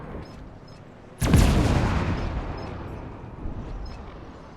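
A heavy cruiser fires a salvo of shells in the World of Warships naval video game, a single sudden loud boom that rolls off into a long, slowly fading rumble, alone without talk.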